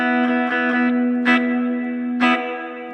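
Sustained electric guitar tones with strummed attacks ringing out through a reverb pedal into a lingering reverb wash, heard alone with no talking.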